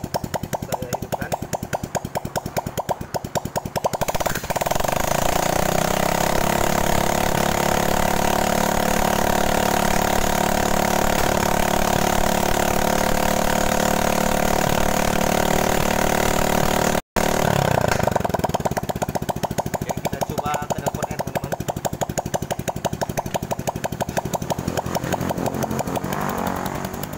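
A repaired Honda Supra 125 / Karisma motorcycle engine idles steadily and loudly at close range after work on its block and piston, with a brief interruption partway through and no talking.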